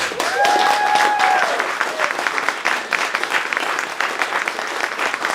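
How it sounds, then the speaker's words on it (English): Loud, sustained applause from a large audience at a film festival kickoff event, dense clapping that holds steady and then thins slightly toward the end. "So please give all of them a round of applause."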